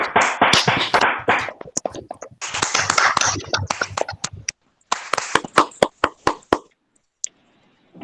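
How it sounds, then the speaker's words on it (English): Scattered applause from an online audience after a song, uneven claps and taps from several unmuted participants, clustered in bursts and then thinning out to isolated claps. "give her a big round of applause"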